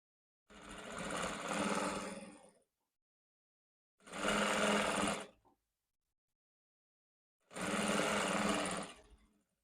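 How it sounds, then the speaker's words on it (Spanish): A sewing machine stitching trousers runs in three separate bursts, each a couple of seconds of rapid, steady whirring and needle chatter, close by with silent pauses between and no talk. "Acomodo y voy cosiendo."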